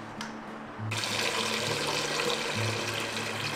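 Water from a kitchen tap gushes suddenly into a pot and keeps running steadily and close by, with no talk over it.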